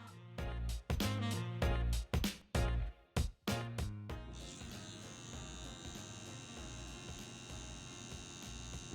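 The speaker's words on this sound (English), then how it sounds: "Just using the edge of that clipper right there, just getting all the details" Electric hair clipper during a detailed haircut, starting with several short buzzing bursts switched on and off, then settling into a steady continuous buzz close by.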